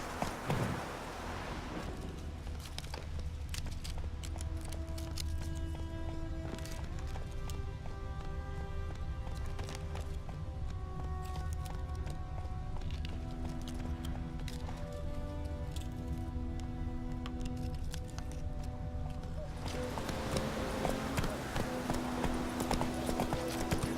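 Roach, Geralt's horse in The Witcher 3, gallops with steady rapid hoofbeats under a continuous bed of game music, the pounding hooves loud and close throughout.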